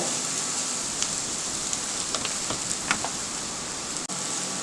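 Tomato frying with oil in a pan for dalia khichdi, a steady rain-like sizzle with small scattered pops, fairly faint and even throughout with no talking.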